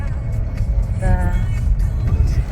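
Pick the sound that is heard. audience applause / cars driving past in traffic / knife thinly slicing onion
cars driving past in traffic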